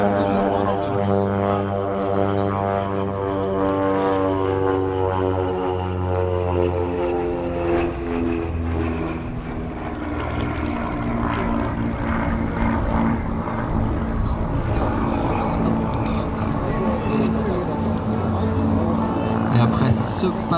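Airplanes fly a close formation pass at the Gap-Tallard air show, a loud, continuous engine roar with droning harmonic tones that shift as the aircraft go by, with a voice faintly under the noise.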